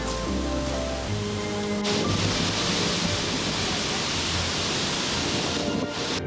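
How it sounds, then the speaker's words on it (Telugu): Gokak Falls spray comes down with force as a dense, loud, steady roar like heavy rain, with a low rumble beneath. "అక్కడ నుంచి వాటర్ తుంపర్లు ఎగురొచ్చి ఇక్కడ పడుతున్నాయి వర్షంలాగా, అంత ఫోర్స్తో పడుతున్నాయి."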